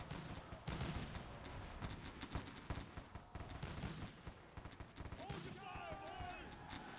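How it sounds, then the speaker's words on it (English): Dense, continuous crackle of musket volleys and booming cannon fire in the Civil War strategy game Sid Meier's Gettysburg, with rapid overlapping shots throughout and a voice talking over the battle near the end. "All these guys have multiple enemies firing at them."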